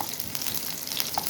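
Mustard seeds splutter in hot oil while a coconut chammanthi is being tempered, a steady close crackling sizzle with scattered pops throughout and no talking.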